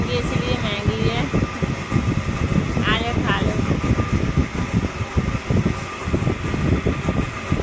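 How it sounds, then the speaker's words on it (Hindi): An electric fan whirs steadily and loudly throughout, with a person talking over the continuous hum. "पंखा चल रहा है इसलिए आवाज़ आ रही है"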